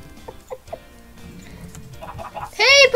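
Chickens cluck in a Minecraft game, a few short clucks early on and a louder, denser burst of squawking near the end, with faint voices in the background.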